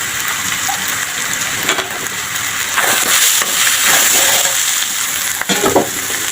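Ground spices, including black pepper and coriander powder, frying hard in a hot pan, a steady loud crackling sizzle with occasional stirring scrapes and no voices.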